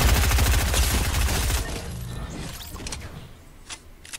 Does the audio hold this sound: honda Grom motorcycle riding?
no